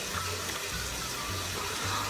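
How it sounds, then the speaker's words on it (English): Water runs steadily from a tap while someone washes their face with cleanser, a continuous splashing gush with a faint low hum underneath, close by and with no talking. "So just washing my face"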